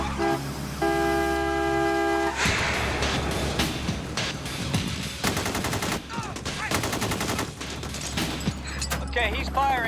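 Gunfire in an action movie street scene, with several rapid bursts of shots mixed into a dense soundtrack with music, car horns and shouting voices, loud and close.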